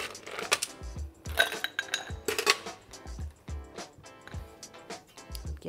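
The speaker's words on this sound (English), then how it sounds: "So ice is going in." Ice cubes clatter into a glass for a stirred Negroni, making several close, bright clinks and rattles in irregular bursts, with no voices.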